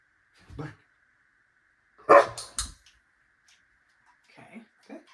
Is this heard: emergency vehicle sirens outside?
no